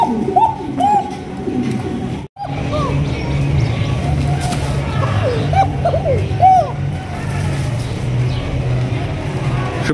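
Two pairs of Koka pigeons coo in repeated short, rolling calls over a steady low background hum, with a brief dropout partway through.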